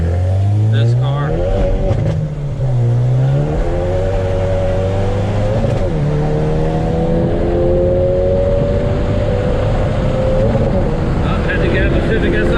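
Exhaust and engine of a Hyundai Veloster N with a catted downpipe, droning and rising through revs as the car accelerates on a wet road, loud and close from the cabin, with someone talking over it.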